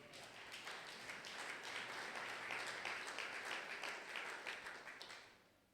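A church congregation at a Sunday thanksgiving service applauds to acclaim the Lord, with sustained, dense, moderately loud clapping from many people that tapers off at the end.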